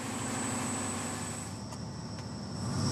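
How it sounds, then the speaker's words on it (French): A powerful engine running on town gas, heating water for high-tech greenhouses at the back of a farm, gives a steady, loud, continuous broadband roar with no breaks. "Ce puissant moteur est alimenté au gaz de ville."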